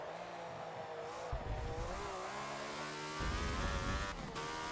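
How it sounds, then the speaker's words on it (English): Wheel spin from a 1976 Ferrari F1 car at Yas Marina in the Forza racing game: a loud, continuous engine roar with rising and falling pitch, surging harder midway as the tyres break traction. "A little bit of wheel spin there."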